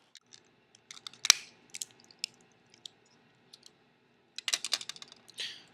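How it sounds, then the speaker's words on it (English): A computer mouse case is popped open and handled, producing scattered sharp plastic clicks and snaps close by, with a dense burst of clicking near the end and quiet gaps between. "Now you can pop open the case"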